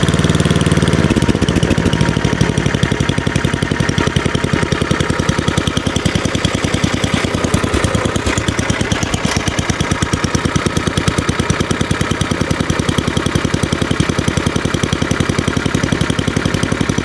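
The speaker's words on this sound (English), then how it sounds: "let's see if it'll idle now" A Tecumseh snowblower engine fitted with an added electric starter and an adjustable carburetor idles steadily with the choke still on, a loud, close, rapid chugging putter that runs throughout.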